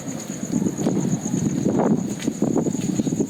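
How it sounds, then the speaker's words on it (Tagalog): Steady wind roars and buffets the microphone with low rumbling gusts on a hilltop in a cemetery, continuous and loud throughout. "lakas ng hangin dito, no? Nasa tuktok eh."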